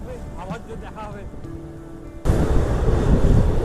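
A train crosses the Farakka Barrage bridge over a wide river on the Kolkata to Haldibari service. A voice talks first, then a loud, broad rush of wind and rumbling train noise suddenly takes over and continues.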